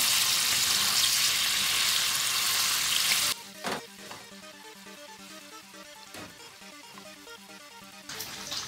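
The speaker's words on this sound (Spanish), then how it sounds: "Cuando el aceite esté caliente, empezamos a echar el tofu y lo freímos hasta dorar." Tofu frying in hot oil gives a loud, dense hiss at first, then it drops to a quieter crackle broken by a few sharp pops and spatters, and swells again at the end. No one speaks.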